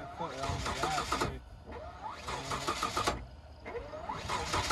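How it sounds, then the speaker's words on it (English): A 2020 Ford F-150 EcoBoost engine labors and sputters in uneven surges, revving up and dropping off in repeated cycles, close by, while people talk over it. "It like kind of sputters."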